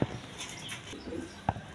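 Pigeons in a breeding loft give low soft coos at close range, faint and muffled, with a sharper tap or wing sound in the middle.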